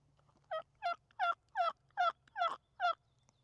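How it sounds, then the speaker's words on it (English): A wild turkey gobbles on a mountainside, seven loud rattling calls in quick even succession over a quiet outdoor background, with no talking. "Turkey gobbled."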